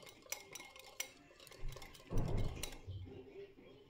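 A spoon stirs chilli powder and ginger-garlic paste in a pan for butter chicken, making quiet scraping strokes and a few light clinks against the metal, close and soft.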